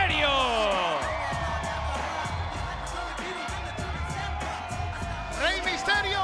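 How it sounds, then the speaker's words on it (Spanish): Lucha libre arena crowd giving Rey Misterio an ovation at an AAA show, sustained cheering and whoops running beneath continuous commentary, with a louder swell near the end. "recibe la ovación de su público"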